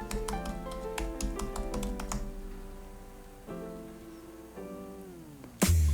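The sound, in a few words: typing a username on a computer keyboard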